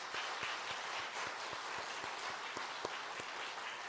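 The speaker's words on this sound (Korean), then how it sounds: "우리가 뜨겁게 축하하며 격려하는 박수 한번 하시죠" A church congregation at a prayer forum applauds to congratulate a newly elected party official, a steady wash of clapping with some distinct individual claps standing out near the recorder, fairly quiet and with no talking.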